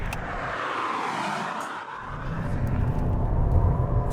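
A 2022 Volkswagen Golf TDI accelerating on the road, engine and tire roar heard from inside the car, loud and rising in intensity with the throttle on and off, no speech.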